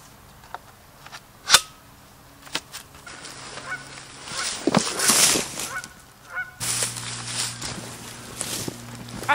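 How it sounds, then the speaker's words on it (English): Many geese honk during an evening walk in spring, with scattered calls at moderate distance, some loud and close, others faint, against light rustling and footsteps. "tons of geese."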